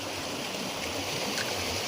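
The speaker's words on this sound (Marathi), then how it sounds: "वाळ्याचं पाणी किती वाहतंय बघा" A stream or channel of water flowing steadily at a traditional fishing spot, a soft continuous wash and trickle at low level, unbroken and fairly close.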